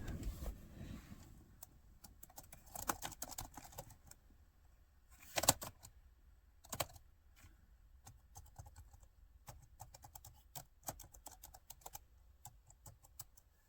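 Keys on an old computer keyboard are tapped in irregular bursts, some firm clacks and some faint presses with pauses between, quiet and close with no voices.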